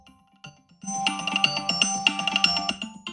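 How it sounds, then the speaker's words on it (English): An iPhone ringer sounds right after the ringer switch is flipped on, playing a bright, repeating electronic ringtone melody, close and clear with no one talking. "you can hear the ringer"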